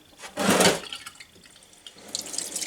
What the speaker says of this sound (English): let it drip for a little while.